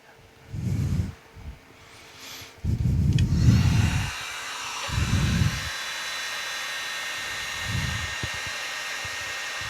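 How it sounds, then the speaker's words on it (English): A handheld heat gun blows hot air while shrinking wiring on an MTD Yard Machines lawn tractor being repowered with a Briggs flathead: a few loud, uneven gusts, then a steady, close whooshing roar. No one speaks. "Just heat that up with your heat gun."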